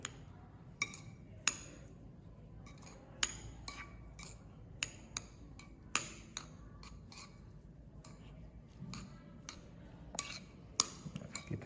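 Spoon clinking and scraping against a bowl while mixing homemade baby food, a series of sharp, irregular taps and clicks at close range over a quiet background, no talk.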